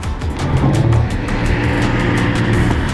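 A car's engine roars steadily at full throttle as the driver floors it and the torque converter strains, a loud, sustained drone close inside the vehicle.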